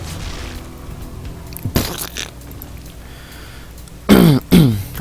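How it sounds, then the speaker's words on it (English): Zerg units in StarCraft make squelchy organic sounds: a muffled thud and burst near the middle, then two loud wet gurgling bursts close together at the end, over a low game background. "I love all the gushy noises that Zerg makes."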